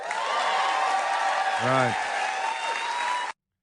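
Studio audience applause and cheering from a late-night talk show form a steady, loud crowd wash, briefly broken by a short spoken word, before cutting off abruptly.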